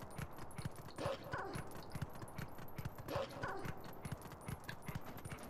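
A dog barks in The Legend of Zelda: Twilight Princess HD: two faint yipping barks about two seconds apart, alongside soft rhythmic clopping steps in quiet game ambience.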